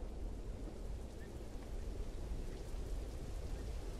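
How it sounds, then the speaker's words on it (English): Steady heavy rainfall in the video game Welcome to Hanwell, with a low rumbling undertone, continuous and even throughout, no voices. "It's raining."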